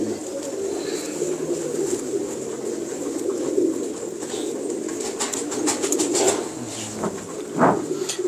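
Domestic pigeons coo steadily throughout, several birds overlapping in a continuous low murmur, with a brief flutter near the end; no talking.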